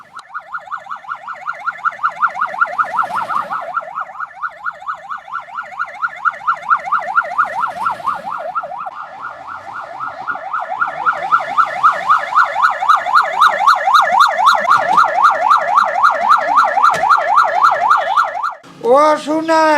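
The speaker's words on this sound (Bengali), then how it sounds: "এখন অ্যাম্বুলেন্স ও আসছে" An ambulance siren on its way to a village snakebite patient wails loud and close, its rising and falling warble repeating continuously before cutting off abruptly near the end.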